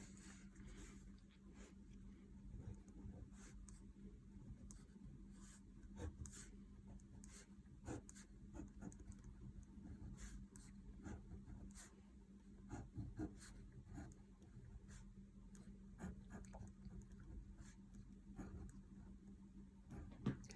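A pen scratches neatly across paper in a steady run of short scribbling strokes, close and quiet, lasting about twenty seconds with no talking.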